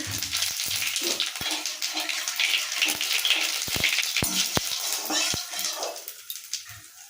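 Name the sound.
cumin seeds tempering and sizzling in hot oil in a wok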